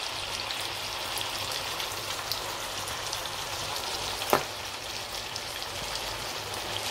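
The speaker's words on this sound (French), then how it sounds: "Le bruit de la bonne bouffe du village." Pork for Bassa black stew sizzles steadily in a pot, giving a dense, constant hiss like rain on a surface, with one faint tick partway through and no voices.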